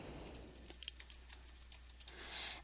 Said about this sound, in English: And we'll type in our password.